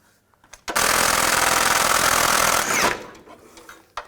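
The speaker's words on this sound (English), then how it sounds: "From underneath the car, we need to take off the nuts that are on the flange right there. Use a 15mm socket." A power tool spins off exhaust flange nuts with a 15mm socket and extension from underneath a 2002-2009 Chevrolet Trailblazer, one loud continuous burst of about two seconds with quieter clanks before and after.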